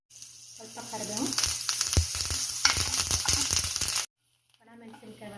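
Mustard seeds and cumin hit hot oil in a pan with a bright, crackling sizzle and rapid popping for about four seconds, then cut to near silence before a quieter sizzle resumes.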